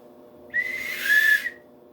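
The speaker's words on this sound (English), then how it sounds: "It's a whistle." A whistle is blown in one sustained, shrill blast of about a second, loud and close, swelling toward the end before cutting off, with no talk over it.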